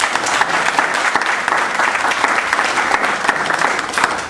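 Sustained audience applause at a talk event, dense and steady hand clapping from a room full of people for several seconds.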